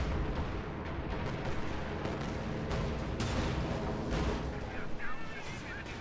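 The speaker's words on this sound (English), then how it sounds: "Nice bomb strike. P-47 here to save the day." A P-47 bomb strike in the Company of Heroes 2 video game, with heavy rumbling explosions and booming impacts rolling through a steady battle din, loud and continuous, with a voice talking over it.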